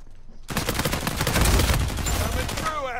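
Gunfire in the multiplayer mode of the video game Uncharted 4, a dense rapid burst of automatic shots that starts abruptly and stays loud for several seconds before cutting off.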